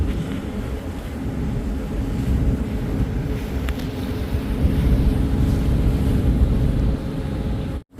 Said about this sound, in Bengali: পিছনে যে খালি তেলের জাহাজটি যে দেখতেছেন এই তেলের জাহাজটি আমাদের পেছনে ছিল এখন আমাদেরকে ওভারটেক করে চলে যাচ্ছে